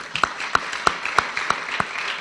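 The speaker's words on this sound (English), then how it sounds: "I think that deserves a round of applause." Applause for a student's achievement: a sparse, steady run of about seven sharp claps, evenly spaced and fairly close, over a faint diffuse room murmur.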